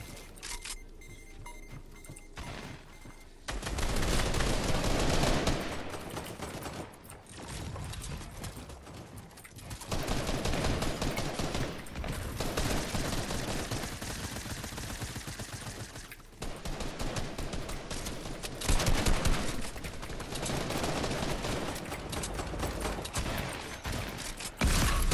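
Dense bursts of gunfire crackle through a shooter game, rapid automatic volleys repeating loudly for most of the stretch after a quieter opening, with little pause between bursts.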